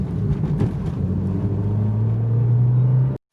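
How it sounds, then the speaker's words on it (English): Heard from inside, a tuned Nissan GTR pulls hard in second gear, its engine note rising in a loud, steady rumbling climb before cutting off abruptly near the end. "So hard pull in second gear"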